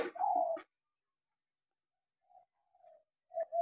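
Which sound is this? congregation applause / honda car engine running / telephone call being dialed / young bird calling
young bird calling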